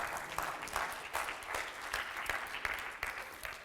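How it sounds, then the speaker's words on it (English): Attendees at a startup launch event give a round of applause, with many hands clapping in a steady, dense patter that sounds somewhat distant and soft. "Big round of applause for sticking around, for coming here."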